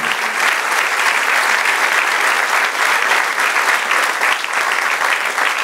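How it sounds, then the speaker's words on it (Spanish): A church congregation claps steadily in dense, sustained applause that fills the room at an even, loud level throughout. "Denle un aplauso al Señor."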